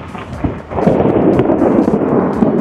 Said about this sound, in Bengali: বাজের আওয়াজ কিন্তু প্রচণ্ড হচ্ছে, মানে সমানে বাজ পড়ে যাচ্ছে।